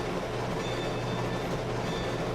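A short train rolls along the track, giving a steady, dense rumble with a low hum and an even roar that holds without a break.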